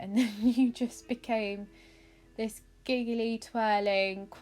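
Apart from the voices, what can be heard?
No everyday noise stands out behind the speech.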